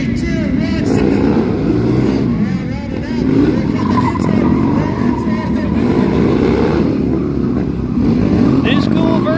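Harley Sportster motorcycles, one new and one old, launch side by side at an outdoor drag race, a loud sustained engine roar with crowd noise and voices mixed in.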